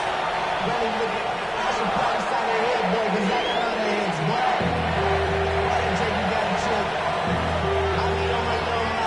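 Steady stadium crowd noise at M&T Bank Stadium in EA Sports Madden NFL, a Las Vegas Raiders versus Baltimore Ravens game, a continuous roar with low tonal hums and horn-like notes entering partway through.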